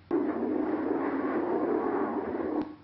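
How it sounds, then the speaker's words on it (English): Synthetic wind texture generated from noise: a continuous low, hollow rushing roar that starts abruptly, holds at an even level, then cuts off near the end, with no voices present. "wind"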